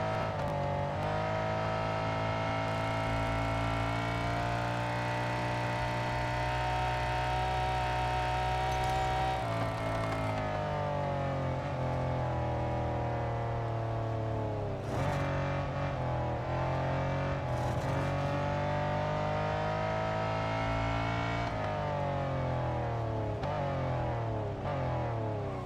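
Race car engine in Real Racing 3 drones loudly and steadily throughout, its pitch climbing and dropping with gear changes and brief tire squeals, with no talking.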